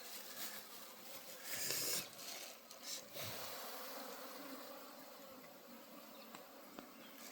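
Honey bees buzzing around a wooden hive box on a farm, a steady, fairly faint hum and drone with a brief louder swell early on, no voices over it.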